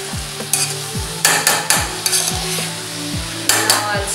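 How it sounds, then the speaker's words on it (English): Raw papaya stirred in a frying pan, with repeated spatula scrapes and clacks against the pan over a low, steady sizzle, close and fairly loud. "Just stirring it a bit."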